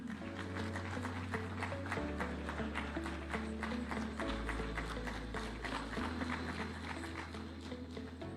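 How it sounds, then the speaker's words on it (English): Applause at the Devolution Conference in Eldoret, Uasin Gishu County, welcoming the President of Kenya: steady, faint crowd clapping over a low musical drone, continuing evenly throughout. "Let's welcome His Excellency with a hand clap"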